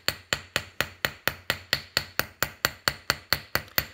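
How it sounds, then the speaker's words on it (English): Steady hammer blows texturing a metal piece for jewelry, about four strikes per second in an even, ringing rhythm, close and loud with no talk. "I always make sure as I'm hammering along to kind of go back over and overlap what I'm doing"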